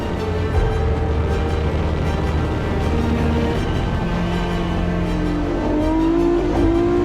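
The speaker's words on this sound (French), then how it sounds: "En images, un tour embarqué mixé entre l'habitacle de la Matra MS 650 de John Ofby," Engine of a Matra MS 650 race car heard from onboard during a lap of the Tour Auto road rally, a loud steady drone with rising revs toward the end, no talk.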